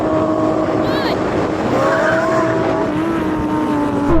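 Supercars, including a Ferrari 488 Pista, a Lamborghini Huracán STO and a Porsche 911 GT3, launch hard in a drag race with wheel spin: loud, continuous, rising engine roar with tyre noise, close and steady throughout.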